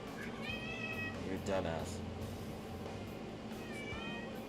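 A pet cat meows repeatedly at close range in a room, its cries rising and falling while someone talks over it.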